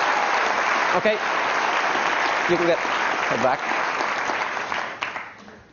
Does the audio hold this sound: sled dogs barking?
no